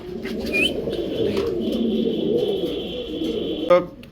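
A white Mundian female pigeon coos in low, steady tones throughout, with a faint chirp early on and a sharper sound near the end, over a busy background of other birds.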